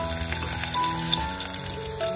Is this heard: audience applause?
no